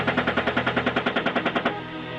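Rapid burst of heavy machine gun fire from an attack helicopter, about fifteen evenly spaced loud shots over under two seconds, then a steady engine and rotor drone continuing alone.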